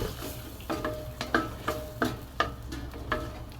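Chopped tomato with turmeric being stirred in a cooking pan, a series of scraping, clinking strokes roughly every half second over a soft sizzle, close and moderately loud with no talk.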